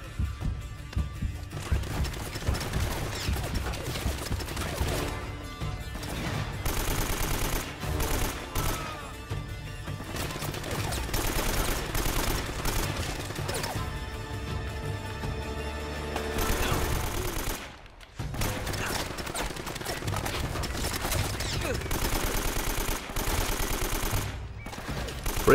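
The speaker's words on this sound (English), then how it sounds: "Stop shooting at me!" Sustained enemy gunfire in Uncharted: Drake's Fortune, dense bursts of automatic rifle fire and rattling shots nearly continuous for half a minute, with a brief lull near the end before the shooting resumes.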